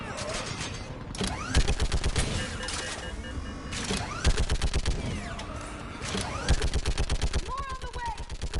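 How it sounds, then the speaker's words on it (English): Sustained gunfire in a video game battle on a bridge, with dense rapid automatic bursts and repeated shots throughout, loud and continuous with shouted voices mixed in. "Keep firing!"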